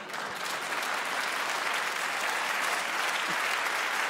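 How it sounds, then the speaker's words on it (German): Steady, dense applause from a theatre audience at a Bavarian cabaret show, a continuous wash of many hands clapping at even volume throughout, no voices on top. "Applaus"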